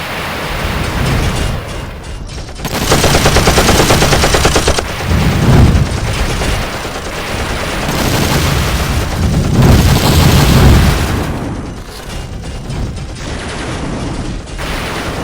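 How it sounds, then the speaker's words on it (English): Loud, sustained bursts of rapid gunfire and booming blasts in a Transformers stop-motion battle, rolling on for the full stretch with swelling peaks and no voices. "Autobots, give me covering fire."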